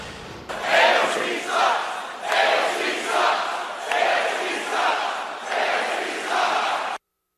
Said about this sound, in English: They are chanting her initials